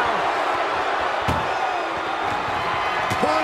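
An ambulance door slams shut in a wrestling video game during an AJ Styles ambulance match, one sharp hit and then a lighter knock, under constant crowd noise and commentary.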